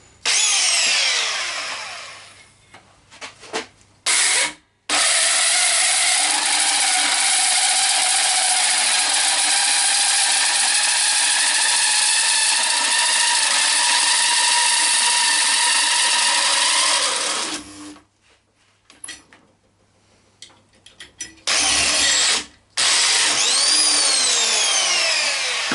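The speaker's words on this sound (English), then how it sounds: "More drilling." A power drill whirs loudly and steadily for a long stretch, with a few short bursts and pauses before and after.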